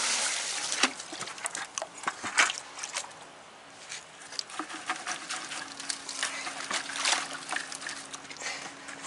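Water poured onto water-absorbing polymer gel crystals for bare root seedling trees, giving a steady splashing trickle with scattered drips and sloshes across the whole stretch, close by and moderately loud.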